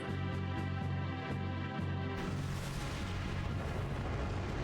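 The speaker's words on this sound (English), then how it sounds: "Big explosion, go boom." An explosion in the video game Star Ocean: First Departure R: a steady rumbling drone gives way to a dense, roaring blast of noise that holds loud to the end, with no speech.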